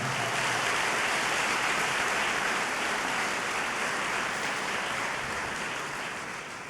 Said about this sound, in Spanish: Si lo crees, dale un fuerte aplauso al Señor.